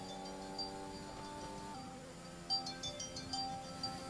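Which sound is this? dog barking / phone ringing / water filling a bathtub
phone ringing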